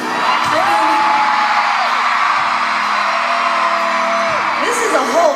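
A sold-out arena concert crowd roars and whoops. Loud sustained cheering is broken by long rising whoops and yells, with a few scattered shouts near the end.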